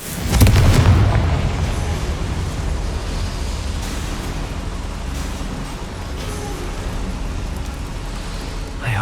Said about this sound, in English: Incendio should be enough to light these flames.